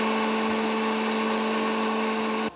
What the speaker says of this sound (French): Vous voyez ce mixeur-là,